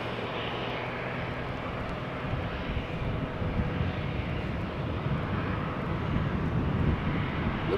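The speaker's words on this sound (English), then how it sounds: "It sounds like GE90s are being started somewhere" GE90 jet engines spooling up somewhere across Schiphol Airport, a distant, broad roar that holds steady and swells slightly without any talk over it.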